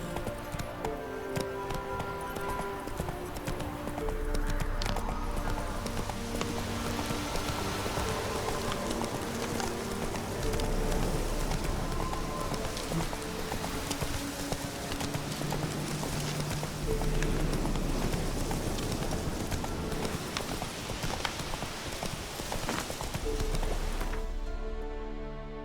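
Horse hooves galloping in The Witcher 3 video game, a fast, steady clip-clop rhythm running continuously and fairly close throughout.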